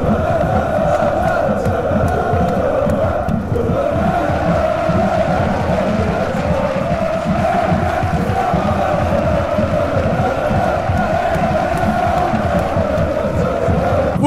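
Football crowd at a Karlsruher SC versus 1. FC Kaiserslautern league match, the stadium fans singing together in a loud, continuous, steady roar of massed voices filling the whole stretch.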